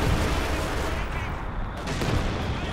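A large battle in Company of Heroes 2 with gunfire and artillery, a dense and continuous wall of loud shots and booms with no pauses.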